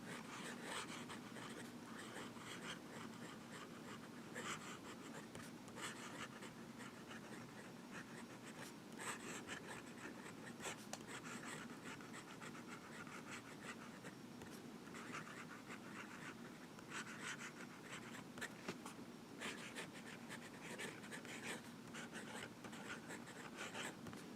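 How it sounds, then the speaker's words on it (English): Visconti Mirage fountain pen with a fine nib scratching across paper, a faint, close, continuous scritch of strokes with small pauses, very quiet throughout. "Now we'll do some writing."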